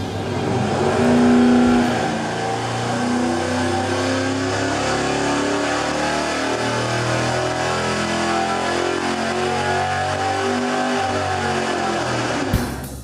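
An engine on a dyno with the alternator under load runs through a loud, sustained pull, its roar rising and wavering in pitch, then cutting off sharply near the end.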